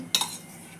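A metal spoon taps twice against a pan in quick succession, a brief close clink over a quiet kitchen background.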